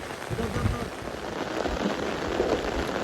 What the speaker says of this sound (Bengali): প্রচন্ড, হ্যাঁ প্রচন্ড বৃষ্টি হচ্ছে